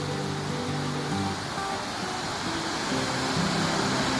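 A river and a waterfall seen from high ground at night rush in a steady broadband roar, constant and fairly loud, with no voices.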